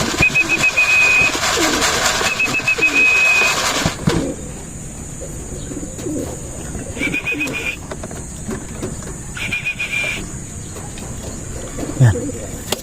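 Racing pigeons coo at a loft after a 174 km race, soft throaty calls mixed with a bright electronic chirp that stops and returns, a person talking nearby and steady outdoor background noise.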